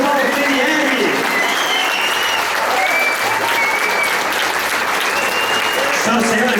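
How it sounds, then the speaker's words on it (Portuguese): A lecture audience gives sustained, loud applause at a talk on urban mobility legislation. The dense clapping continues steadily throughout. "Senhoras e senhores, uma salva de palmas para a gente de Thiago Paltrinieri."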